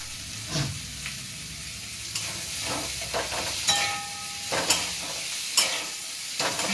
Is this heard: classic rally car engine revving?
no